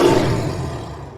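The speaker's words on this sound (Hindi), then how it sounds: "मतलब सच में ये टाइगर की आवाज़ है?" A tiger's roar rumbles out loud and close, a single harsh, throaty burst that fades away over about a second.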